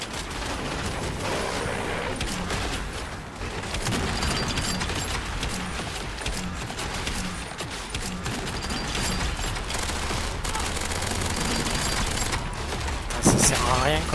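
Weapons fire in the first-person shooter Sprawl during a boss fight: dense, sustained, loud gunfire with mechanical clatter runs throughout, ending in a brighter burst near the end.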